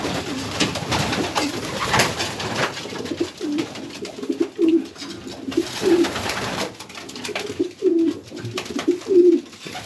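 Racing pigeons inside a loft coo repeatedly in soft, rhythmic, throaty phrases, close and clear, over a faint hiss of room noise and occasional rustling.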